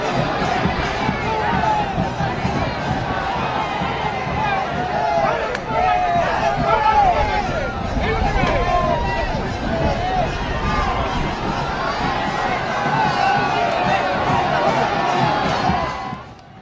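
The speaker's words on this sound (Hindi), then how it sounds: "पीएम के इस्तकबाल के लिए बड़ी भीड़ जमा थी।" A large crowd gathered to welcome PM Modi in Tamil Nadu keeps up loud cheering and chanting, with many voices shouting over a constant roar of noise for the whole stretch.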